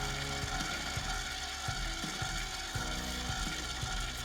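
A powered brass case trimming tool runs in a steady mechanical whir, with a regular ratcheting click repeating through it at close range and no voices.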